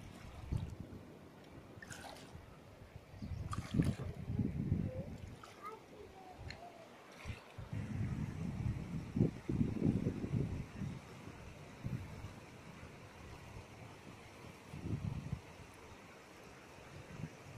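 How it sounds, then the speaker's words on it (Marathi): Wading across the Narmada river through cold water on a chilly morning, with sloshing splashes from steps moving through the current and a voice talking over the water sounds. "या पाण्यातून पलीकडे जातोय."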